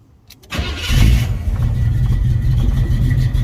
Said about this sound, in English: So that's the sound of the car